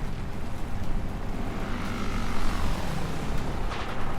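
A Bf-109 propeller fighter in the building game Trailmakers drones with a steady, loud engine roar and rushing wind noise that swells slightly in the middle, with no talking over it.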